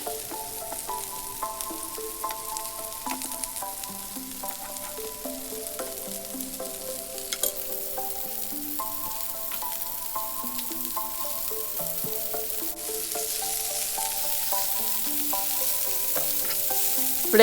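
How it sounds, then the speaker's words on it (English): Zucchini and kebab meat sizzle on a griddle, a steady close hiss of frying that runs unbroken beneath light background music, with no talk. "Let's flip all of the zucchinis."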